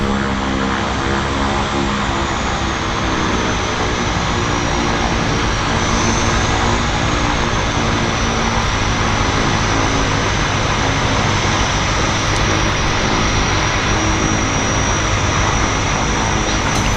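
A propeller airplane landing at Vancouver Harbour Airport, its engine drone loud and continuous throughout, with a slowly shifting high whine and no pauses.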